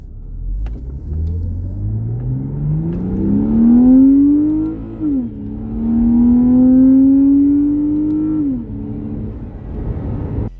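A BMW Z4 Coupe engine revs up in a rising, smooth bellow above 3000 RPM toward redline, dips briefly, then holds a loud sustained roar before easing off.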